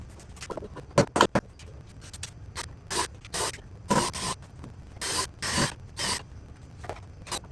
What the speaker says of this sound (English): now we're going to screw those side pieces in.